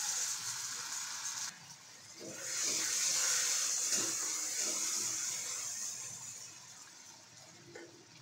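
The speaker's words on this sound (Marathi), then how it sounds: "त्यासाठी आपण अद्रक लसूण घालायचं तेलामध्ये" Ginger and garlic frying in oil as the base for a fish curry, a soft steady sizzle and hiss that swells after a few seconds and then slowly fades, close but quiet.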